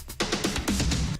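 Acoustic drum fill sample resampled to 126 BPM, a quick run of loud, punchy hits spread across about a second with no talking.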